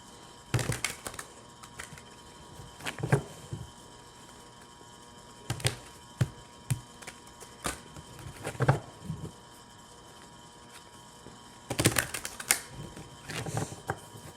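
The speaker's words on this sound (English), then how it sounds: "Give them a good ruffle shuffle." A deck of cards is riffle shuffled several times up close, each pass a quick burst of crisp, fluttering clicks, with quieter handling taps between and no talking.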